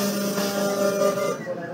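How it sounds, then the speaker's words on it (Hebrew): A 3D printer extrudes a cultured fish fillet made with real cells, ready to cook, giving a steady mechanical hum with sustained tonal whine and a faint hiss, close and fairly loud, fading slightly toward the end without speech. "פה זו מדפסת שמדפיסה מוצר שהוא מוכן לטיגון"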